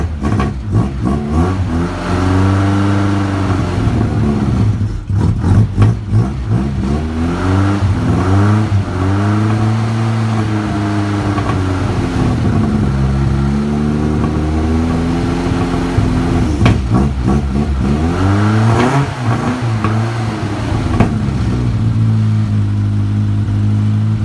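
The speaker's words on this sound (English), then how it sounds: "Let's see if it starts before I try and pump up the tyres." A 1964 Mk1 Mini engine runs loud and close after starting, its idle repeatedly revved up and dropped back in uneven swells, a steady mechanical drone under each throttle blip, with no voices.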